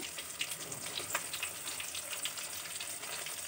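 Pabda fish fry in hot oil, a steady close crackling sizzle with small pops running throughout, no voices.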